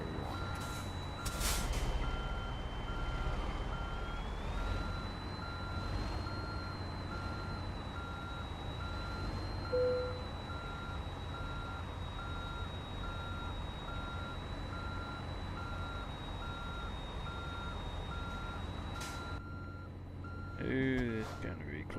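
A truck in American Truck Simulator reverses a trailer, its backup alarm beeping in a steady, even rhythm throughout under a low engine rumble, with a hiss of air brakes near the end.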